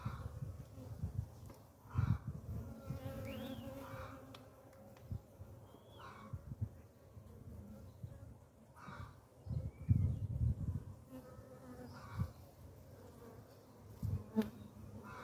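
Honeybees buzz steadily around an open backyard hive being inspected, a faint continuous hum with individual bees droning closer and farther, with a few soft handling knocks and no talking.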